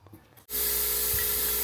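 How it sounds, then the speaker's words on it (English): Degreaser sprays from an aerosol can into the holes of a Ford XL Falcon ute carburettor being rebuilt: a faint scrape, then a loud, continuous hiss that starts abruptly and carries on steadily to the end. "Degreaser. Just going to spray it in all the holes And all the orifices."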